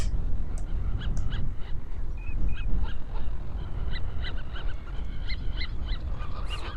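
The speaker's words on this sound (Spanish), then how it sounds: "que se han mosqueado todas las aves" A flock of water birds, geese and ducks at the Urdaibai wetlands, call agitatedly over a steady wind-like rumble, repeated honks and squawks overlapping at a moderate distance.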